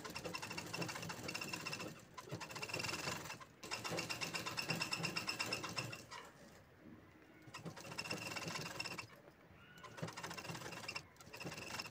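A domestic sewing machine runs in steady rapid bursts, stitching a zipper onto an organizer made from an old Punjabi dress or saree cover, pausing briefly a few times between runs.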